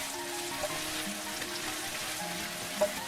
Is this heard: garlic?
yes